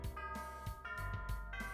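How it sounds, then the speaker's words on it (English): A school bell signals the start of first period with a short run of sustained, ringing chime tones that overlap, heard alone at low volume. "The bell rings, signaling the start of the first period."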